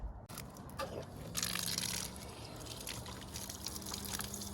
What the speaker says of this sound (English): I will go ahead and take this over to our hose and rinse it off